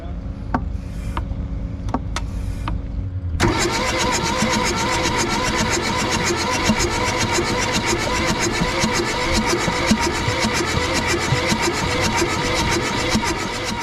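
An old VW diesel engine, unused for about 25 years, cranks continuously without firing, a loud, steady churning drone that starts abruptly after a few faint clicks and carries on for around ten seconds.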